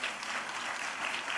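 An audience at a spiritual talk gives a round of applause after devotional chanting and bhajans. The clapping is steady and even, with no voices over it.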